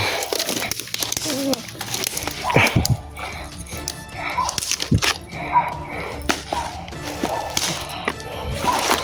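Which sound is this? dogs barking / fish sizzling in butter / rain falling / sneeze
dogs barking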